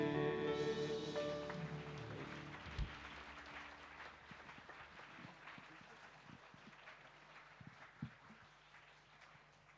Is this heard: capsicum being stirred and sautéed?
no